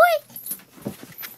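A puppy whimpers on a farm with a high, falling whine at the start, followed by soft yips and snuffles close by, short and intermittent.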